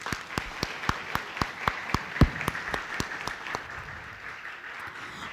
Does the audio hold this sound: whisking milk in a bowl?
no